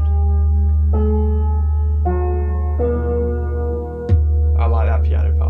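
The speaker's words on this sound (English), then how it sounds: "I like that piano part." A distant-sounding, slightly untuned piano part sits inside an album track, sustained harmonic notes over a heavy sub-bass drone, with new chords struck roughly every second and a sharp hit near the end.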